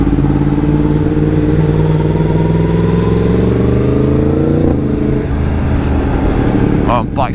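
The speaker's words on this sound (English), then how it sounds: "Oh, bike sounds so good through here." A motorcycle engine revs up through the gears, loud and close with rising harmonic tones, then a shift and a brief dip before pulling again, with wind noise throughout.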